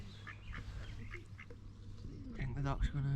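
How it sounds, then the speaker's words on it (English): Ducks on a loch beside Kilchurn Castle in Scotland give a series of nasal quacks, faint at first and then louder and closer near the end, over a low outdoor background hum. "the ducks have come in a bit for a bit of the sandwich"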